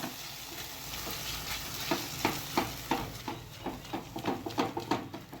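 Spices being stirred into sizzling gravy for a dhaba-style lasuni methi curry, a steady frying hiss with a series of soft rhythmic scraping strokes of the spoon growing quicker toward the end, close and alone.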